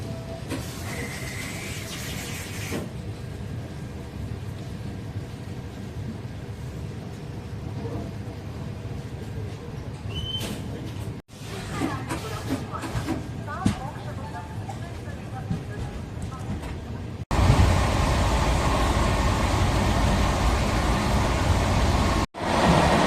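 An express train runs at speed on the stretch after Katpadi, a steady rumbling rush with hiss and wheel noise, louder and rougher in the later part, with a few sharp breaks in the sound.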